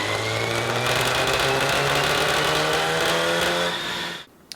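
An Audi A4 B7 four-cylinder engine with a misfire, traced to a failed spark plug, runs hard on a dyno: a loud sustained drone with a slightly ragged edge that cuts off abruptly near the end.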